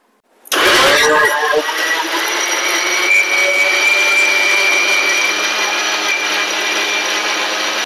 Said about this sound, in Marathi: आता आपण मिक्सरला लावून घ्यायचं आहे।